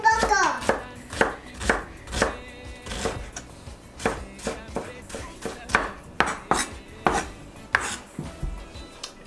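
An onion chopped with a knife on a board for rice, giving a series of sharp, irregular knocks, close and distinct, with faint background noise between strokes.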